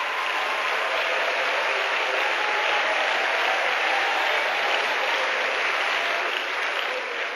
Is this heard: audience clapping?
yes